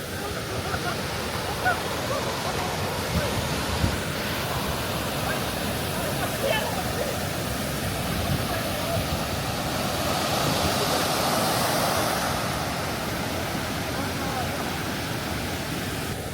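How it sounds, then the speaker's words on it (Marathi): Heavy monsoon flow at Kumbhe waterfall in Mangaon, Raigad, Maharashtra: a steady, loud broadband roar of crashing water that stays constant throughout, with no distinct voices over it. "आत्ताच आम्ही पोचलो कुंभे वॉटरफॉलला. तर पावसामुळे पाणी खूपच फ्लो आहे"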